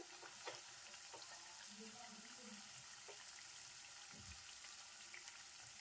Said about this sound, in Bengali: সিম আঁচে ভাজবেন, আঁচটা বেশি করবেন না